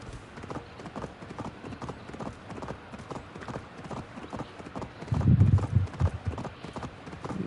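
Horse hooves gallop at a fast sprint in the Assassin's Creed Valhalla video game, a steady rhythmic clip-clop that runs throughout and swells louder with heavier low thuds near the end.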